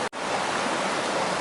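A river rushing on the Pacific Crest Trail near Muir Pass, a loud, steady broadband roar of flowing water heard close by, briefly cut at the start and otherwise continuous.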